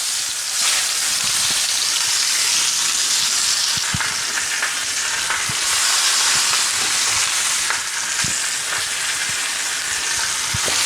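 Steak sizzles hard in a hot cast iron skillet after being flipped, a loud, steady frying hiss with scattered pops and crackles running the whole time, close and unbroken by talk.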